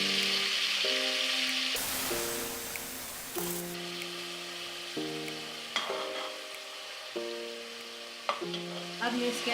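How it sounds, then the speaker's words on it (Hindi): Strained ground tomatoes hit a pan of frying trotter curry with a loud, steady sizzle, overlaid by bursts of stirring and scraping; someone speaks intermittently throughout. "अब मैं इसके अंदर शामिल करने जा रही हूँ, ये 300 ग्राम के बराबर पिसे हुए टमाटर हैं, लेकिन इसको मैं छान के डालूंगी।"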